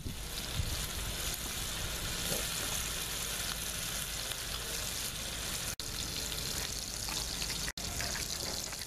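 Steak searing in a hot frying pan with butter and garlic cloves gives a steady, dense sizzle throughout, loud and continuous with no talking, broken only by two very brief dropouts.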